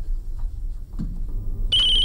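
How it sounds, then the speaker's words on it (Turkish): A telephone bursts into a loud, steady electronic ring in the last moments, after a stretch of quiet indoor room noise with faint murmurs. "Ne bu telefon çalmaya ki?"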